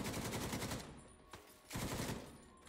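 An enemy turret in The Division 2 fires rapid automatic bursts: a long sustained stream, a sharp single crack, then another heavy burst, all fairly faint.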